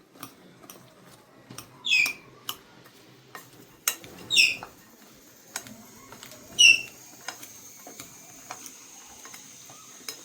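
Bobbarlu chaat gets stirred in a bowl with a spoon, making three bright metallic clinks at intervals amid soft scraping and light taps in a quiet room.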